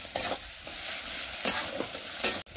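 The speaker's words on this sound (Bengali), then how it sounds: "দিয়ে টমেটোটাও হালকা একটু ভেজে নেবে" Onion and tomato fry in a pan with a continuous close sizzle, broken by a few louder bursts as the mixture is stirred, for a mutton curry.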